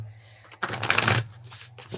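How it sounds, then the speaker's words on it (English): Tarot cards are shuffled in one quick riffling burst, close and crisp, followed by a few softer card taps and handling sounds in a quiet room. "I just wanted to do one more shuffle."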